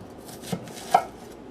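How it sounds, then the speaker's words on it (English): A knife dices a small onion on a cutting board, giving two distinct close chops about half a second apart, the second one sharper, in a quiet kitchen. "dice up a small onion."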